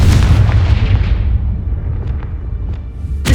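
A loud explosive spell blast in the video game Hogwarts Legacy, a booming burst that fills the lows and slowly rumbles away, with small crackling pops trailing after it.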